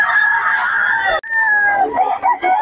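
A rooster crows nearby at a crowded rooster market in Bocaue in a long, strained call, then another crow and some clucking follow.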